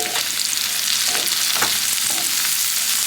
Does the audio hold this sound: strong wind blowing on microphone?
no